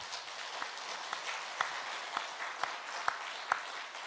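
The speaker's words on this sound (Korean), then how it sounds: "우리 찬양대 감사와 하나님께 영광의 박수 드리겠습니다." Church congregation applauding the choir after a hymn, a steady wash of many hands clapping with a few sharper individual claps standing out, moderately distant and even throughout.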